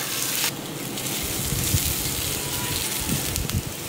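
Akki rotti, a rice-flour flatbread, fries in oil on a dosa pan with a loud, continuous crackling sizzle close by and a few sharper spatters, no one talking.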